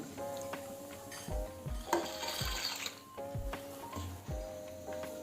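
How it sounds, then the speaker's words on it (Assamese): Faint pouring and stirring sounds as two tablespoons of oil go into a pot of boiling salted water for pasta, with soft clinks of a utensil against the pot over a steady bubbling background. "আৰু এতিয়া মই 2 টেবুলস্পুন তেল দিছোঁ, যাতে পাস্তাখিনি পিছত লাগি নধৰে।"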